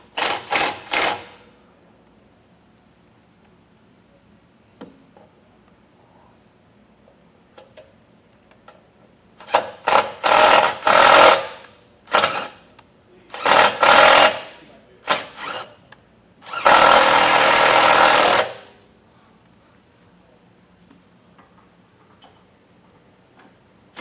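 A power driver whirs in several short, sharp bursts, driving self-tapping screws into pre-drilled holes while mounting a Firestone heavy-duty air compressor on a 2024 Ford truck. Faint ticks and quiet stretches fall between the runs.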